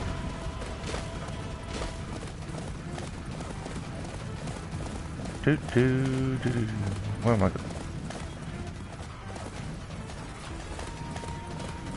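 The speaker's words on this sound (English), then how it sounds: "Let's ride the horse there." A horse's hooves beat in a quick, rhythmic clip-clop throughout in a PS4 video game, with a whinny partway through and a voice talking over it.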